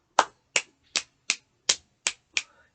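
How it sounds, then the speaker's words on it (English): Seven crisp finger snaps ring out in an even, steady rhythm, close and clear with silence between each. "Or you can just snap, snap, snap, snap, snap, snap, snap, snap."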